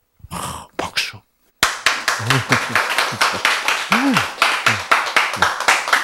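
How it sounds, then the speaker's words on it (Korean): Audience clapping at a Korean sermon or lecture, a steady fast patter of many hands lasting several seconds after a brief stretch of speech and a pause, with a voice talking over it. "아, 박수."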